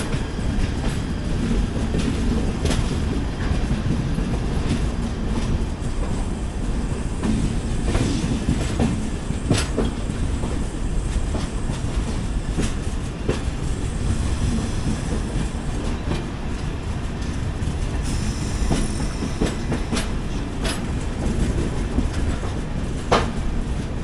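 The Udyan Express from Mumbai CSMT to Bengaluru rolls along the tracks as it joins the main line, giving a loud, continuous rumble with rhythmic clickety-clack wheel beats and occasional sharp metallic clanks, heard from on board.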